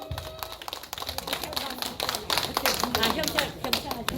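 An audience at a community charity event in Gangbuk claps to welcome a police singer, a dense patter of hands rising and holding, with voices talking over it.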